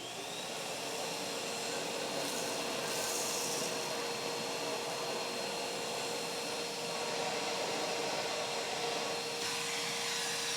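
Henry Petcare HPC 160 vacuum cleaner running with a straight suction flippable tool on fresh animal hair: a loud, steady close whoosh and whine throughout, with slight shifts in tone as the tool moves.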